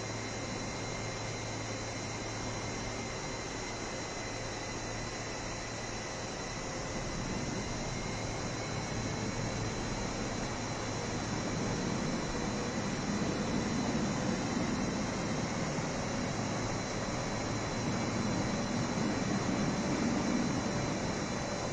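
Steady, even airliner cabin roar during descent and landing, a constant broadband rush with faint engine hum that swells slightly in the second half.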